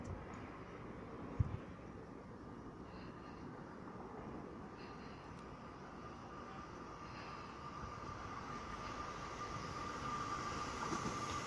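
EMU851 and EMU852 electric multiple units arrive at a station on a test run, a low continuous rumble with a faint electric whine, one brief knock early on, growing slightly louder toward the end.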